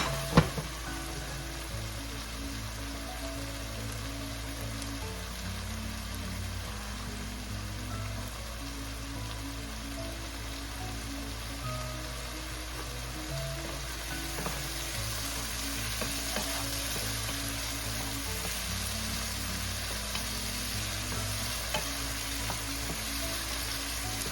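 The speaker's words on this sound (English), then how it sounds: "we'll wait until these vegetables or our sofrito softened up and gives out all its flavors here. Just keep stirring and let it do its thing" Sofrito vegetables sautéing for pork menudo sizzle steadily in a pan, with a dense continuous frying hiss and occasional scrape of a stirring spoon, close and alone without talk.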